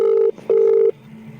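Two steady electronic ringback tones from a telephone call being placed, loud and close, separated by a short gap, followed by a faint lower hum.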